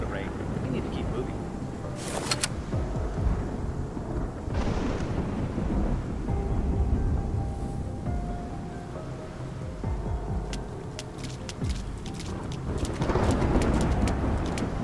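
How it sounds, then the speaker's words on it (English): Steady rain falls in the video game Love and Deepspace, a dense hiss that runs the whole time with low rumbles that may be thunder. Voices speak over it in places. "It's just the rain."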